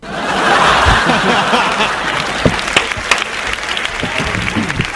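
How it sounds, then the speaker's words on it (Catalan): A canned applause effect plays on a rock radio show, a burst of crowd clapping mixed with chuckles and laughter that swells quickly and holds steady to the end. "Aprofitant aquí tenia els aplaudiments aquests"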